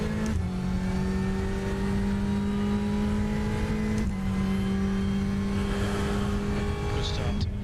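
Ferrari 488 GTE race cars in the iRacing game pulling away at a race start at Sebring, with a steady loud engine drone that climbs through the gears, breaks briefly at a shift, and carries a faint tire squeal.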